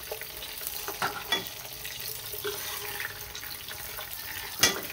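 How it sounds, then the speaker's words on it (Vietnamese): Potatoes frying in a pan: a steady close sizzle and crackle with occasional sharp pops and stirring clatters, no talk. "Mình chỉ chiên khoai tây trong vòng vài phút được rồi."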